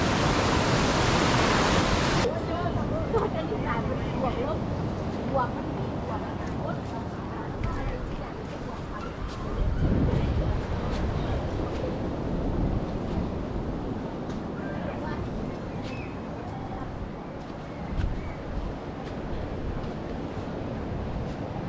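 Big ocean waves break on a shore in Thailand, giving a loud, continuous roar of surf with swelling surges, partly buffeted by wind noise.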